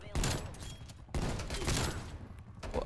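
Hand cannon shots ring out in the video game Black Ops Cold War, a couple of sharp loud blasts spaced about a second apart, each trailing off in a burst of noisy decay amid other game sounds.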